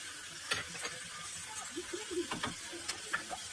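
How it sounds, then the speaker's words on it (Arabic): Sausage sizzling as it fries in a pan, a steady soft hiss with occasional stirring scrapes and light clicks of a utensil, fairly quiet and close, with no voices. "غنرجعو من بعد ما السوسيط ديالنا تقلى لنا شويه"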